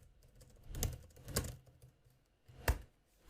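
A few soft, close clacks of computer keys, three separated strokes over a few seconds with a faint background hum, as code is typed on a keyboard with no one talking.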